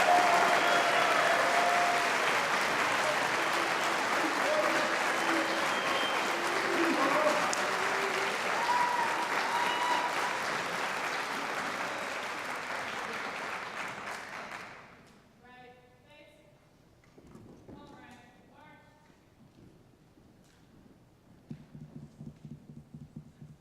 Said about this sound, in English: please join us in a round of applause for all of our new second lieutenants